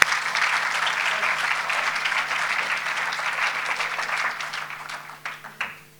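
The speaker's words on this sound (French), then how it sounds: "Sous vos applaudissements, s'il vous plaît." A French audience at a chef's address breaks into sustained applause, a dense wash of clapping that tapers into scattered final claps.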